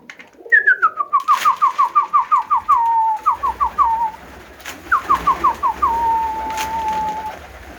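Pigeons coo close by in repeated rhythmic phrases, each a series of soft throaty notes falling in pitch, with a short pause between bursts.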